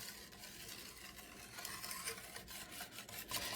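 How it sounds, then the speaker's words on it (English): A spoon stirs coconut pecan frosting in a pot over medium-high heat with a steady, soft scraping and bubbling sizzle, continuous and close, with no talking. "I am going to just stir it just like this until it thickens up"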